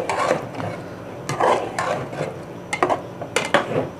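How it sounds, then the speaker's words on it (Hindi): Tomato puree being stirred in a cooking pot for murgh do pyaza, with repeated scraping and knocking clatter of a utensil against the pot in an irregular rhythm, close and moderately loud. "टमाटर प्यूरी को हम इसमें अच्छी तरह कर लेते हैं मिक्स"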